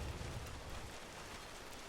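Rain falls steadily in the open-world game Red Dead Redemption 2, a soft, even hiss of drops close around the listener, with a low rumble underneath and no voices.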